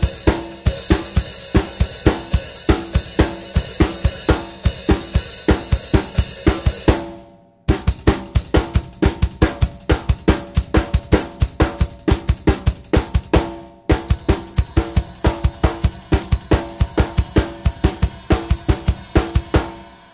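A drum kit plays fast seven-stroke roll fills, with rapid, even strokes in three bursts, each bursting forward and ending in a short gap before the next run starts; loud, close and without talk.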